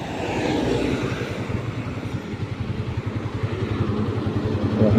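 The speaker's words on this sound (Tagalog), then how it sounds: "Ayan motor natin." A motorcycle engine runs steadily during a ride in Polangui, Albay, its close, pulsing drone holding at a constant level with light wind noise over it.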